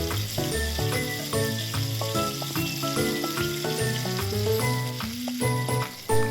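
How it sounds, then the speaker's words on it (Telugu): Tempering seeds and crushed garlic cloves sizzle steadily in hot oil in a pan for a lentil dish with red chilli chutney, beneath prominent background music. "ఇప్పుడు ఈ తాలింపు వేగిన తర్వాత దంచుకున్న వెల్లుల్లి రెబ్బలు కూడా వేసుకొని మిక్స్ చేయండి"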